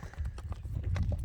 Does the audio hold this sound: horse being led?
yes